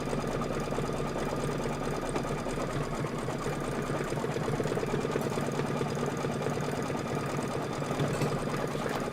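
A sewing machine runs steadily, stitching the trimming guide on a Kimberbell Cup of Cheer quilted wall hanging, a close, continuous mechanical whir with a fast needle rhythm and no talk.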